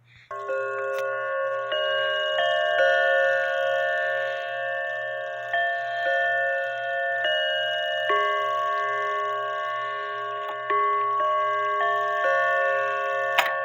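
A Seth Thomas Sonora clock with five bells chimes a sustained, ringing sequence of bell tones, clear and close, with overlapping strikes layered over one another throughout.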